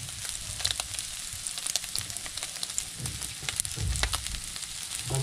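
Kibaw sautés in oil in a pan, giving a steady crackling sizzle with scattered pops and occasional stirring scrapes, heard up close with no talking.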